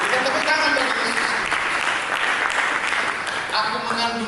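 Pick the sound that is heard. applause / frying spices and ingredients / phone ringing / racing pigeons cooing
applause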